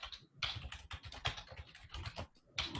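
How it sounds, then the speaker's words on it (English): Rapid typing on a computer keyboard, a dense run of close, crisp key clicks and taps in irregular bursts with brief pauses, fairly quiet and with no talking over it. "Oh, I'm typing and no one can see."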